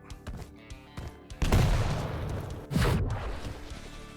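Rocket blasts in the Quake Champions video game burst out while a player strafe jumps, with quick sharp clicks at first, then two heavy booming explosions with rumbling tails, loud and close.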